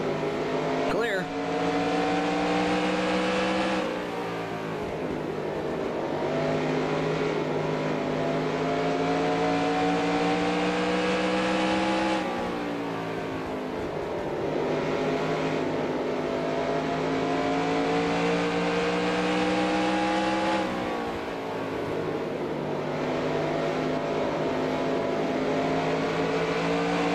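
Race trucks in NR2003's 1995 NASCAR SuperTruck Series at Bristol, engines droning loud and steady with rising and falling pitch as trucks pass in waves, while a radio voice talks over them.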